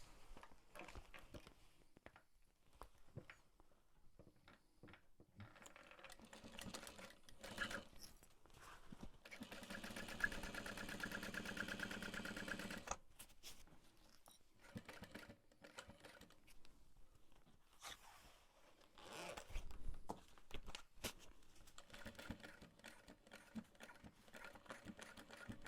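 A sewing machine stitches fabric in rapid, uneven bursts, fairly quiet and close, with a stronger steady run midway while a voice talks at times over it.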